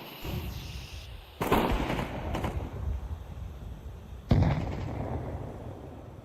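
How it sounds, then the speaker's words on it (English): A flashbang grenade going off in Counter-Strike 2, sudden sharp bursts with a bright crack and ringing noise, loud and close, the first followed by a sustained roar and a second blast a few seconds later. "Deploying flashbang."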